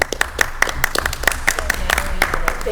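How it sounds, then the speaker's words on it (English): A small group at a school board meeting claps after a new chair is elected; sharp individual claps land in a quick, fairly regular rhythm near the microphone, with faint voices underneath. "I'll clap to that."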